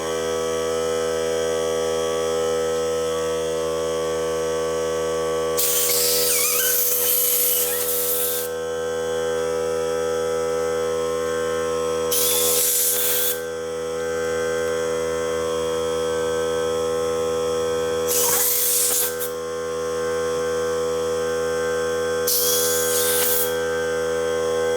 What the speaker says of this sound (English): the idea is to blow this inside the grip and have the compressed air just blow the grip right off the bike